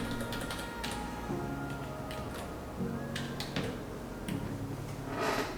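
An account name is typed on a computer keyboard in a few light, quick runs of clicking keys, close but soft over a steady background hum.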